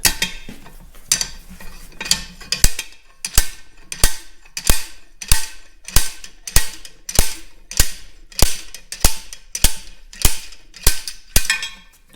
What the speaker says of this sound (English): we have the vice grip attachment slide hammer puller